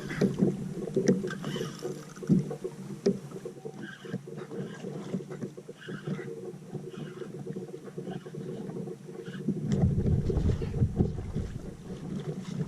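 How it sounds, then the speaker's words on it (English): A fishing kayak moves across open water with soft paddle swishes and water lapping against the hull, mixed with steady wind buffeting the microphone that grows heavier toward the end. "So I'm turning this kayak around."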